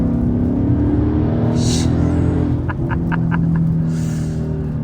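Ford Mustang fitted with a Corsa Extreme exhaust accelerating on a wet road, a deep continuous engine rumble and drone, loud and close, with a few brief clicks partway through.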